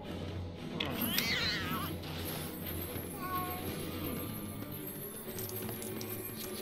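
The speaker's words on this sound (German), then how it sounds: "Geh weg, du Katze." A cat meows in the Lego Harry Potter video game, a few short cries that sit clearly above a quiet game background with faint chimes, and a voice briefly talks over it.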